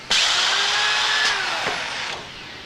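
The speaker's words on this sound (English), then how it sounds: "you can locate the dolly over the stud and track and fasten both the top and the bottom simultaneously" A rake wall table dolly fastening a stud to its top and bottom track starts abruptly with a loud, close mechanical whine like a power tool. The whine holds with a sliding pitch, then fades over a couple of seconds, with no voices.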